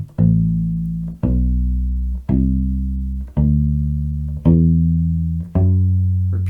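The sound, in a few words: bass ukulele playing major scale up and down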